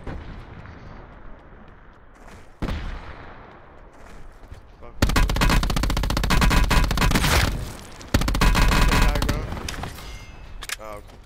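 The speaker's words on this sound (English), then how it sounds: "they're shooting at me" Dense bursts of automatic gunfire from Call of Duty: Black Ops 4 Blackout, loud and close, in two long sustained volleys after quieter game ambience, with a player talking over it.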